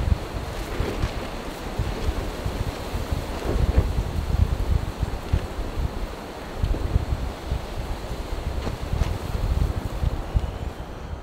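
Strong gusting wind at night buffets a camp in an open field, a steady loud roar with rising and falling gusts and rustling, no voices.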